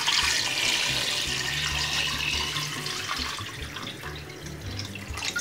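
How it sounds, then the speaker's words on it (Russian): Cold water gushes from a tap over meat in a pot for an Azerbaijani parça bozbaş soup, a steady hissing splash close by with a low hum underneath, no talk. "Заливаем холодной водой."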